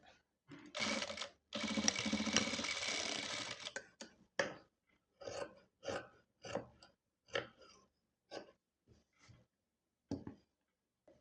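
A sewing machine stitches churidhar lining, first in two longer continuous runs, then in a string of short stop-start bursts close by, with quiet gaps between them.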